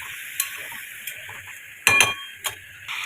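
Yogurt-marinated chicken fries in hot oil with a steady hiss and sizzle, while a utensil stirs and scrapes the pan in a few distinct clinks, close and fairly quiet.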